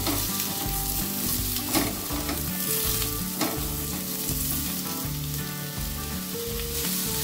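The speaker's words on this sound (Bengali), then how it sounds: "এবার ঝিঙেগুলো ভালো করে ভেজে নেব" Steady, loud sizzling of ridge gourd frying over high heat, with occasional stirring scrapes and clinks throughout, no voices.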